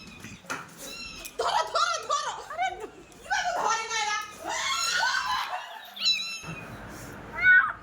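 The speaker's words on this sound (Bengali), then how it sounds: "ম্যাও ম্যাও করছে" A cat in a house meows, several high-pitched cries heard under frequent nearby human talk and excited voices, with one clearer meow near the end.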